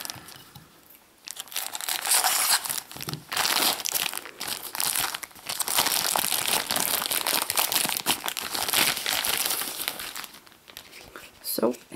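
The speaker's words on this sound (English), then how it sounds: "You can see up here it says there are one sticker album and eight sticker packages inside. So let's open it up." Plastic packaging of a Frozen sticker album starter pack crinkles and tears loudly up close in long bursts, with a person talking at times.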